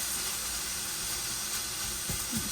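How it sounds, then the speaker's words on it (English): Steak sears in a pan for a pesto cream beef penne, giving a steady, faint hiss and sizzle with a couple of soft clunks near the end. "This is our steak over here. Just getting it nice, a little bit of a crispness on it."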